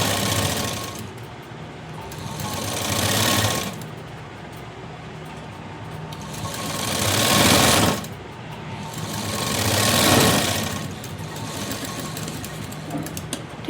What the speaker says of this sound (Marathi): आता शिलाई द्यायची।